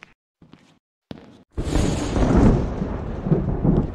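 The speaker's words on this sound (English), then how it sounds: "You can see the lightning outside. You see the rain on the windows, look. Pretty cool effect." Thunderclap and steady rainfall from a stormy night in the VR horror game Doors of Silence, a few faint knocks and footsteps first, then a loud rolling rumble with rain hissing on for several seconds.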